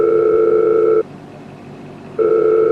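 A telephone ringback tone sounds after a number is dialed again: a loud steady two-note beep that stops for about a second, then starts again, close and clear with no talking.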